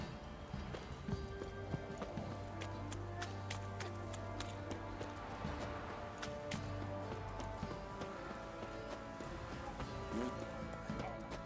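Horse hooves clip-clop steadily in The Witcher 3, a continuous walking rhythm set against game ambience and music, fairly even in level, with a few sharper knocks and some faint voice nearby.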